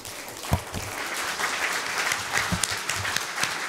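Applause from a conference audience, a full wash of many hands clapping steadily at moderate loudness, with a few sharper claps standing out and no speech over it.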